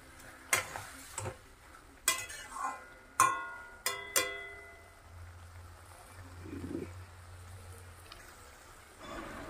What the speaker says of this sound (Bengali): এইবারে চলো এই টমেটোটাকে ছোট ছোট করে কেটে ওর মধ্যে দিয়ে দিই।